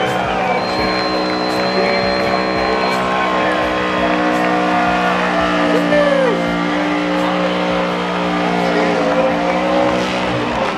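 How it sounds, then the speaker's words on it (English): Big-turbo BMW E46 M3 drift car doing a burnout at a Formula Drift event, engine held at a sustained high roar with screaming tyres, loud and continuous for the whole stretch. "Crazy ass burnout."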